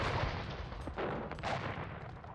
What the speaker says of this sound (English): So bombard cannons are really sniping in those cottages.